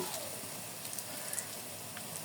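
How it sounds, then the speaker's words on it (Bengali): Potato balls deep-frying in hot oil, a soft steady crackling sizzle with scattered faint pops, fairly quiet and continuous throughout. "আর একটু আমি বাদামি কালার করে ভেজে নেব"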